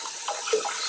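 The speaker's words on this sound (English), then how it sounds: "There's still remnants of the water, and I'm just going to pour it out so you can see it." Dirty water poured out of a Grayl Geopress purifier bottle on a trail, a brief close splashing gush with no voices.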